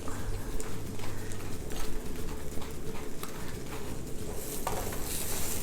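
Buttered bun slices toast in a pan with a soft, continuous sizzle and occasional light scrapes and clinks, close by and fairly quiet.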